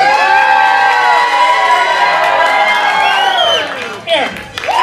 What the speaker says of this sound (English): Round of applause right here.